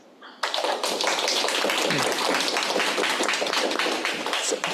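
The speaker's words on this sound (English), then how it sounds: "Please give her a big round of applause." An audience applauds a book-talk speaker at an education policy event, a dense, loud burst of clapping starting abruptly and sustained evenly to the end.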